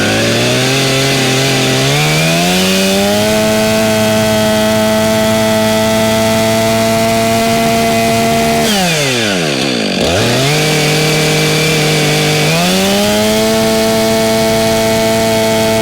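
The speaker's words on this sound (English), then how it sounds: "Let's make some more cuts." A chainsaw with a freshly tightened chain cuts firewood, its engine loud and close, revving up, bogging down in the cut with a falling-rising pitch sweep, then climbing back to a high steady whine.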